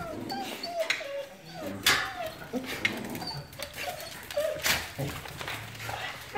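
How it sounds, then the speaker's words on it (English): Several dogs at an animal sanctuary whimper, yip and bark in short irregular bursts, fairly close, over background noise with some voices. "All the dogs are ready to go down."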